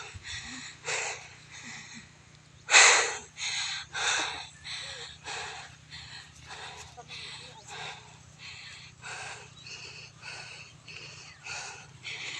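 A person pants heavily after climbing to the top of a hill, with rapid, rhythmic breaths, some harsh and wheezy, that carry on through the whole stretch and sound close up against steady outdoor background noise.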